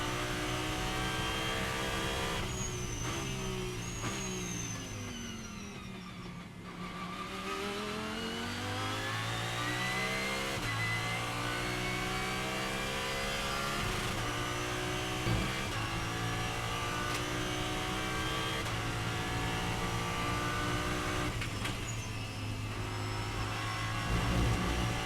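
A race car pulls out of the pit lane and accelerates hard after the pit limiter is released, its engine climbing through several gear changes in a loud, continuous rising and falling roar, heard up close with no talking.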